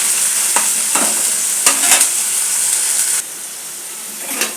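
Ginger garlic paste frying in a pan for chicken curry with a loud, close hiss of sizzling oil, punctuated by a few scraping stirs before the sizzle drops slightly and continues.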